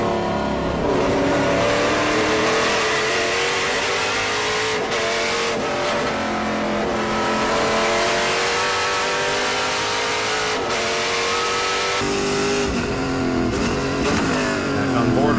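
TA2 race cars battle side by side at Road America, a loud, continuous roar of several V8 engines revving and shifting up and down close by, with no break over the stretch.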